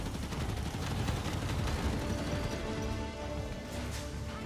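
Gunfire in the shooter game Halo 5: Guardians comes as a dense, continuous burst of rapid shots and impacts, loud and steady throughout with no voices.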